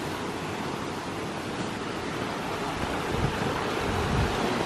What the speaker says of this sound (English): Look at that little creek.